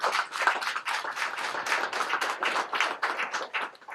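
An audience applauds, a continuous dense patter of many hands clapping at steady volume, moderately near, with no voices over it.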